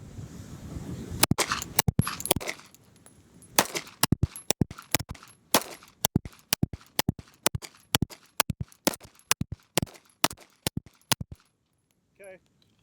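Springfield Armory 1911 DS Prodigy pistol fired in a rapid string of about twenty sharp, loud shots during a recoil-control test, evenly spaced cracks with brief pauses, closely recorded.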